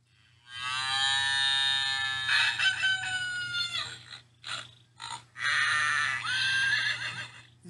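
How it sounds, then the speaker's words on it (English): Farm animals call together: a rooster crows loudly and repeatedly alongside a horse whinnying, the calls overlapping in close, clear bursts with brief gaps, over a low steady hum. "Press the button to hear all of the animals again."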